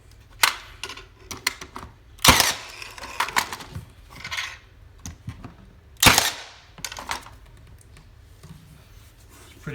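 Milwaukee M18 Gen II cordless brad nailer driving nails into trim boards, several sharp, separate snapping shots spaced a second or two apart, close and loud against a quiet room.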